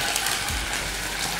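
Water poured into a hot pan of stir-fried spices and bay leaves gives a steady, loud, broad sizzle that holds evenly throughout, with no voices.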